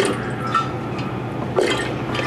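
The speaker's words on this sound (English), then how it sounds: "it just makes a really nice bubbly sound when it bubbles on the water cooler in glass" Water bubbling and gurgling inside a glass bottle on a water cooler, with a steady liquid burble and a couple of louder glugs, close and alone.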